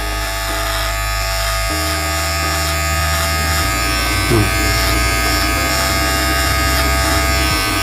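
A steady electric hair trimmer buzz, a Philips Series 7000 Multigroom MG7710, runs close and loud throughout while shaving hair, its motor pitch shifting a few times as it moves.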